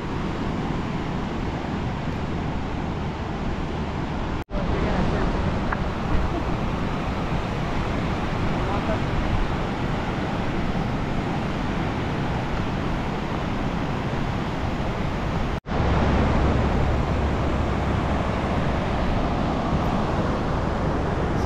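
Ocean surf rolls onto a beach beneath sandstone cliffs at Black's Beach, San Diego, forming a steady, dense wash of noise with wind buffeting the microphone, continuous and fairly loud, with no talking.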